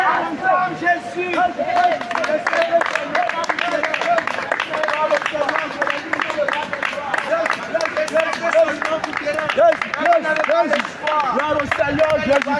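A crowd at a street evangelism gathering in Châtelet, Paris, chanting and acclaiming Jesus in loud unison, with voices raised together in a steady, continuous rhythm of shouts and cheers throughout.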